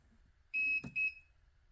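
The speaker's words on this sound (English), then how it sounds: "I'm going to go ahead and turn the battery on. Beeps." A lithium battery on a jon boat gives two short, high electronic beeps as it is switched on, crisp and close with a tiny click between them, then quiet.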